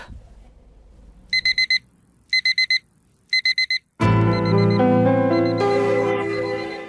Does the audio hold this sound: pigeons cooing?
no